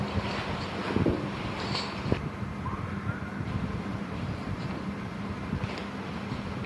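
Steady rushing wind blowing through an open window of a dark house, a broad continuous roar with faint gusts and no clear voices.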